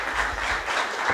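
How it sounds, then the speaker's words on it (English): An audience claps for Elena and her crew at an event, a brief dense burst of applause heard alone. "So I would like to hear one major applause for"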